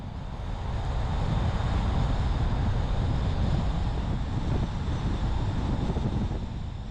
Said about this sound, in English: This is definitely one windy stretch through here, just back and forth.